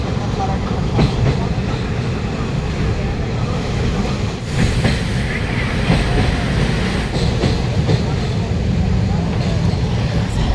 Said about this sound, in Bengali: এখন ট্রেনটি পাস করছে ফারাক্কা ব্রিজ